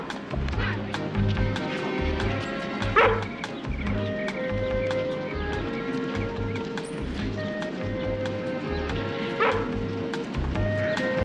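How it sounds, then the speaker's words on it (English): A cartoon dog barks in short repeated bursts over a looping music track with a bouncy, hoof-like rhythm. The barks are moderately loud and recur throughout. "That's Lucky doing the barking."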